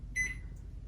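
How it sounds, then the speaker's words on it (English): A microwave oven melting butter gives a short electronic beep, a single clear tone over a low steady hum, close by with no voices. "I'm just going to give it about 20 seconds in the microwave"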